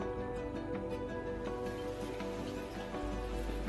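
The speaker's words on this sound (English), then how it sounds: "it's actually starting to rain a little bit" Rain falling steadily on a goat farm, a soft continuous hiss of drops pattering on surfaces, with a low hum underneath and no talking.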